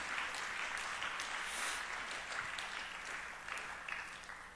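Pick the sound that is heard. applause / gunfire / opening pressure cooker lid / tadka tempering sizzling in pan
applause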